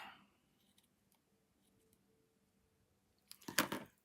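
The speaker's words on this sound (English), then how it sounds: "let's get the scissors" A single short crisp snip of ribbon scissors cutting paper near the end, after a few seconds of near silence.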